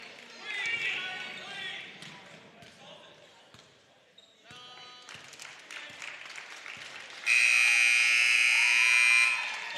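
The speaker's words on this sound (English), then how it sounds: "Final buzzer rings" Final buzzer sounding at the end of a high school boys basketball tournament game, a long loud sustained electronic tone near the close, after arena crowd noise and talk.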